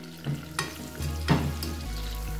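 Almonds, dates and cashews frying in a pan for sheer qorma, close sizzling with a few knocks and scrapes of stirring over a low steady hum.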